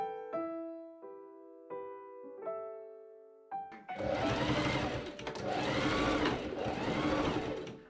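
After a few plucked musical notes, a sewing machine starts up loud and close, stitching the diagonal raglan sleeve seams of a sweatshirt in a sustained whir that rises and dips in short runs.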